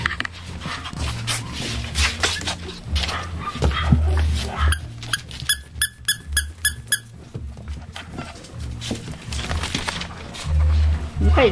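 Puppies playing indoors bark in a quick run of sharp, high yips near the middle, with scattered whimpers and yelps around it, heard close under a person talking throughout.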